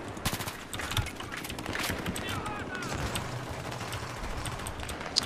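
Rapid automatic rifle fire in Battlefield 3, bursts of gunshots against a busy battlefield din with explosions, heard under a player's talk.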